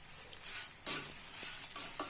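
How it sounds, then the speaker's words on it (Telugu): Curry leaves sizzle briefly in hot oil in a pan of potato fry, a soft steady frying hiss with a couple of short louder crackles and a stir. "కొంచెం కరివేపాకు కూడా వేసుకున్నాను"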